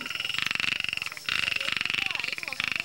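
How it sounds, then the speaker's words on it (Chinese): Frogs call at night along a dark path in Huashan, Taiwan, during a guided frog-watching walk. Rapid pulsing croaks come in repeated bursts with short pauses between them, fairly close. "耳边听着蛙鸣"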